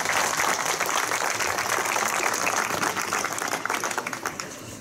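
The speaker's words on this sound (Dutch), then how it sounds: "ik wil daar graag ook voor meneer Spijkervet een applaus" An audience at a museum summer-season opening in Oosterhout claps in sustained, dense applause that stays steady and then thins slightly toward the end.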